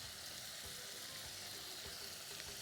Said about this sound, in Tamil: இப்போ நான் என்ன பண்ண போகிறேன், அந்த 5 பச்சை மிளகாயை உடச்சி போட போகிறேன்